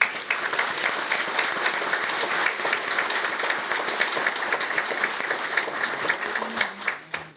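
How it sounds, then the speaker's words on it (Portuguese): Audience at a judge's swearing-in ceremony giving a round of applause: steady, even clapping at moderate volume that holds for several seconds, then thins out into a few scattered claps at the end. "uma salva de palmas para ele"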